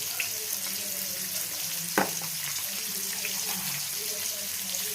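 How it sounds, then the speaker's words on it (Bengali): Onion and bay leaf frying in leftover fish-frying oil while making fish-head kochu shaak, giving a steady close sizzle that runs throughout, with one brief sharp clatter partway through. "মাছ ভাজার তেলটার মধ্যেই পেঁয়াজ দিয়ে দিলাম,"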